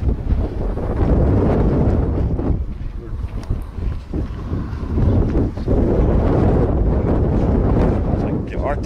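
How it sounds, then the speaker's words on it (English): Strong wind gusts buffet the microphone outdoors in cold weather, producing loud, rumbling blasts that rise and fall over several seconds, with a person speaking at times. "Oh gosh, that wind is killer."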